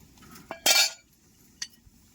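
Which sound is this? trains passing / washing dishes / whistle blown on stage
washing dishes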